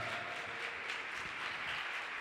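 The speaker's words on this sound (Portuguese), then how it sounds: "Deem para Jesus uma linda salva de palmas" A church congregation claps together during a worship service, a continuous, fairly faint wash of applause with no pauses.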